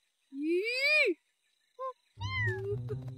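A cartoon cat gives a long rising meow, then a short second cry, followed by a further meow over a soft background hum in an animated scene.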